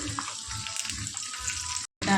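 Chicken leg pieces fry in a pan with a close, steady hiss and sizzle that runs almost the whole time and breaks off sharply near the end, with no talk over it.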